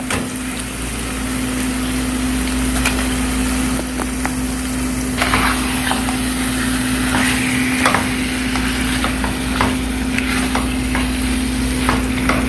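Chicken frying in a pan for mutter chicken, a steady sizzle running the full length with a constant low hum beneath and scattered clinks and scrapes, no talk.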